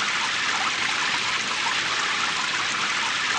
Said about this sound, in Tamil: ஒரு நாள் நல்ல மழை பெஞ்சிட்டு இருந்தது